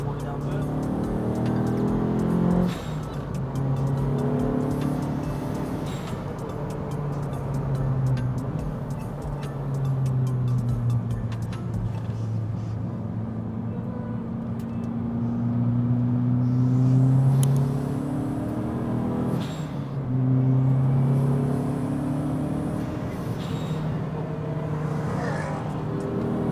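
A Renault Twingo RS turbo tuned to 346 horsepower roars past on a road course, its engine rising and falling in long surges with passing rumble, while people chatter over it.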